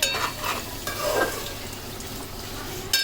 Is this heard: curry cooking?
yes